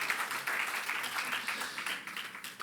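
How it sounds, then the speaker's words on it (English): A conference audience at an energy and infrastructure forum applauds the session moderator and speakers, a steady patter of many hands clapping at moderate volume for a few seconds. "I would like to request again all of you to give a round of applause to the moderator and the speakers of session one."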